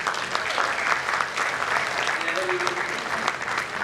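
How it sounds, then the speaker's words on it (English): Steady applause from an audience fills the whole stretch, dense and even, with no break in the clapping. "please give them a round of applause"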